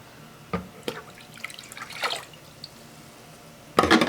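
Containers being rinsed under a tap while making homemade ash laundry detergent, with scattered drips, splashes and short bursts of running water, close and moderately loud.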